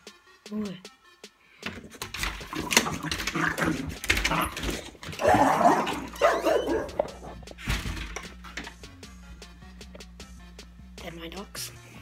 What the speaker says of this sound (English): I have very mental dogs.